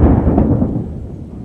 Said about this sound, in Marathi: ढगांचा पण आवाज हे बघा